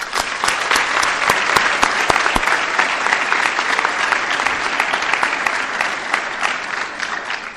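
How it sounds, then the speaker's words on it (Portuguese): An audience at a nursing ceremony gives a loud, sustained round of applause for retiring nurses, many sharp individual claps merging into a dense, even roar close by with no talking. "peço uma salva de palmas para quem se aposenta"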